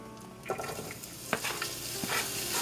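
Ham pieces being stirred in hot olive oil with cumin seeds in a pan, a soft steady sizzle broken by several scraping stirs, quiet and close with no voices.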